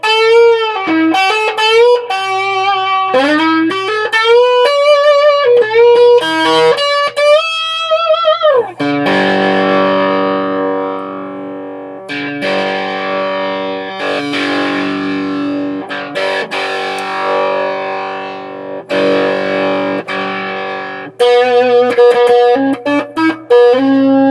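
Electric guitar driven through an overdrive pedal with the gain turned up, playing bright picked melodic lines and then ringing, gritty sustained chords, loud and up close with no voices.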